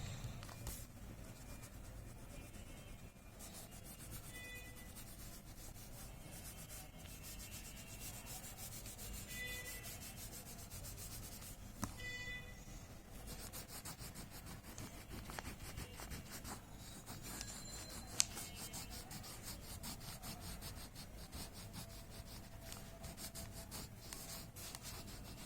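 Pencil drawing of clouds lightly rubbed and blended by hand on paper, a soft continuous scratchy rubbing texture that runs steadily close up, with no talk.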